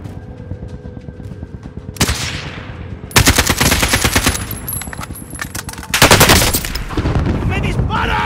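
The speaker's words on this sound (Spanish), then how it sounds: "¡Me disparan!" Heavy gunfire in Call of Duty Modern Warfare looting mode, with AK-47 bursts: loud, close automatic volleys in several rapid strings, with a game voice briefly under the shots.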